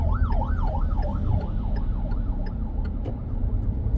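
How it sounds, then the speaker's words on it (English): An ambulance siren wails on Barbados's ABC Highway near its roundabouts, a rapid rising-and-falling warble repeating over the low rumble of passing traffic. "There's an ambulance here,"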